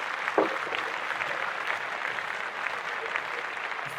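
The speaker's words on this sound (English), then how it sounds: "Clap that up." Applause from a small group, a fairly soft, steady patter of clapping that runs continuously without any talk on top.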